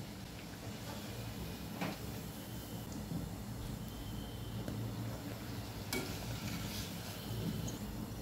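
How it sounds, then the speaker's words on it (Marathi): A puri deep-frying in hot oil gives a steady, close, fairly quiet sizzle with bubbling and a few small clinks of utensils, and no talk over it. "दुसरी पुरी टाकूया। दोन्ही बाजूनी लालसर रंगावर तळून घेऊया।"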